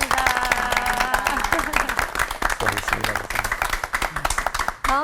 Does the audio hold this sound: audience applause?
yes